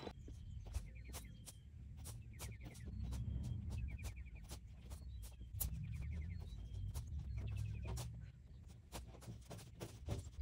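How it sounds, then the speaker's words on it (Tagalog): Faint rooster crows repeat in the distance around noon over a low rumbling background, with scattered sharp clicks and chirps throughout, outdoors in a garden in America. "Meron akong naririnig na tiktulaok"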